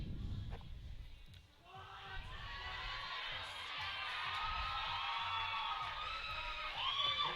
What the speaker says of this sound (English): I don't know if you guys can hear that crowd out there, but they went crazy for Katie